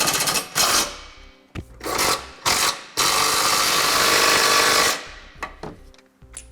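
Power tool, likely an impact driver, tightening fasteners on a Curt trailer hitch receiver on a 2013 Ford Escape, in several loud, close bursts of whirring and rattling, including one long sustained run, separated by short pauses.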